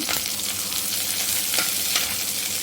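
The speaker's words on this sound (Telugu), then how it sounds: "తాలింపు కోసం పెనుము పెట్టి అందులో ఆయిల్, ఆవాలు, ఆనియన్స్, కరివేపాకు" Oil with mustard seeds, onions and curry leaves sizzles loudly and steadily in a pan for tempering, with a few crackles and stirring scrapes, close up and without talking.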